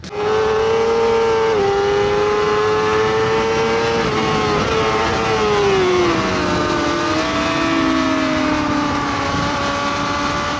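Racing cars roar close by at the San Donato corner during an overtake, a loud sustained engine note that drops in pitch through the braking and rises again, with a second engine layered underneath.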